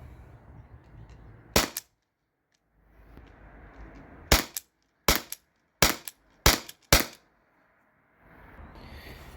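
A T4E P2P HDP50 Gen2 pistol fires six sharp shots at targets from 24 feet, an isolated single crack followed by a quicker irregular cluster of five, each loud and clipped against quiet room tone.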